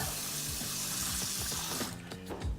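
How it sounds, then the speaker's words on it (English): Water trickles and splashes into cinnamon spice oats from close by in a short, quiet pour, ending with a few soft clinks. "And then I'll add just a tiny bit of water."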